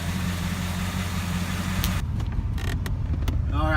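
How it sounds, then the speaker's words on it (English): A 1997 Chevrolet Camaro Z28 with an LT1 V8 idles steadily with a low, even rumble, running warm after a coolant refill, with a few faint creaks and clicks near the end. "it is idling here at 188 degrees"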